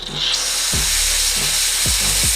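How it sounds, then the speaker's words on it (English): The steam wand on a Gemilai 3007L espresso machine opens with a loud, steady hiss that starts within the first half second and keeps going. A few low knocks sound beneath it, and no one speaks. "So for the steam wand, just going to turn it on."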